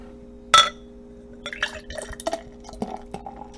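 A glass is refilled with a foamy drink: one sharp clink, then a series of close, quiet pours, drips and fizzing splashes with scattered gurgles.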